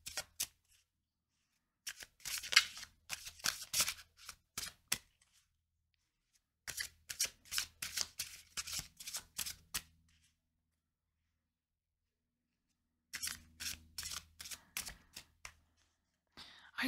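A deck of fairy oracle cards being shuffled in three bursts of rapid riffling flicks separated by silent pauses, close and crisp.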